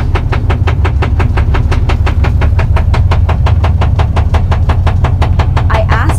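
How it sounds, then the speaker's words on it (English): Rhythmic clicking and clacking from tire chain cables on a van driven faster than 25 mph in winter, rapid steady beats over a loud continuous road rumble, with no talking. "Now the issue I am having with these cables, when I drive faster than 25 miles per hour, this is the sound you hear."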